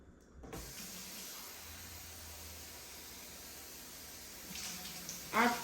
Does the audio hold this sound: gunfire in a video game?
no